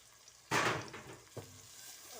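Ground turmeric, salt, cumin, coriander and red chili powder hit hot oil for an aloo palak curry, giving a sudden loud sizzle that settles into a steady crackling fry with a brief stirring clatter.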